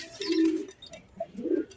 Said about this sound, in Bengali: দেখেন কতটা ছটফটা কবুতর